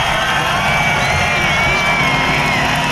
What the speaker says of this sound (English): listen to this crowd. Do they appreciate the efforts of Mark Martin or what?